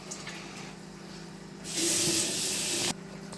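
A pot of pasta-cooking water is emptied into one basin of a double kitchen sink, a loud, steady splashing rush lasting just over a second, starting and stopping abruptly amid quiet kitchen background.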